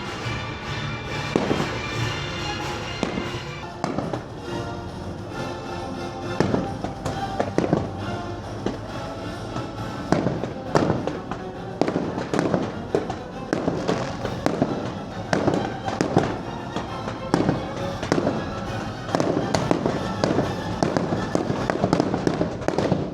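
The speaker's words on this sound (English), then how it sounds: "What a great chill way to watch the fireworks show." Fireworks go off over a Disney cruise ship in a long, dense barrage of booms and crackles, with sharp bangs and a dull roar in between, while the crowd murmurs beneath.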